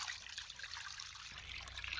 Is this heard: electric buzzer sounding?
no